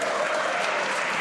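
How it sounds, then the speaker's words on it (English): Members of the House of Commons clapping in the chamber during a parliamentary sitting, a dense steady burst of many hands lasting just over a second at an even level. "I hope that was clapping out of relief on the other side"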